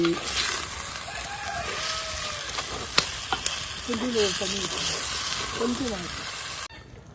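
Chicken hits a hot pan and sizzles in a steady bright hiss that keeps going, with a voice talking over it and a few small clicks of utensils.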